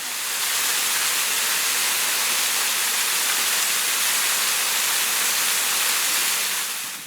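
Water pours down a waterfall in the Blue Mountains near Lawson and runs along a fern-lined creek, a constant broadband rushing roar, close and loud, steady throughout with no voices.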